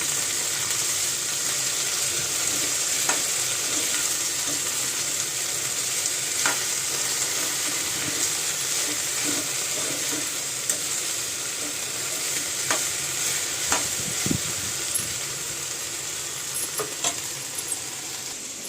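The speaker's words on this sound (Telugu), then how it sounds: "కాసేపు ఫ్రై అయింది కదా, ఇప్పుడు కలుపుకోవాలి." Okra curry frying in a pan is stirred, a steady close sizzle running throughout with occasional scrapes and clinks of a utensil against the pan.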